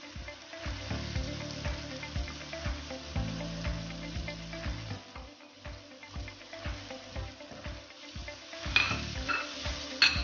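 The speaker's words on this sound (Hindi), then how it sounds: "मसाले को हम अच्छी तरह भूनेंगे।" Tomatoes, spices and salt fry in a karahi for achar gosht, a steady close sizzle broken by repeated scraping and clinking stirs of a spoon against the pan.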